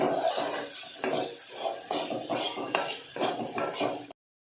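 A spoon scrapes and stirs masala paste in a pan for Malvani fish curry, giving rhythmic rasping strokes with soft knocks, close and clear, before it stops abruptly near the end.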